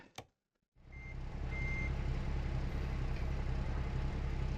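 Truck reversing beeps in American Truck Simulator: a steady high-pitched beeping comes in after a brief pause, sitting over a loud, constant low engine idle with no talking.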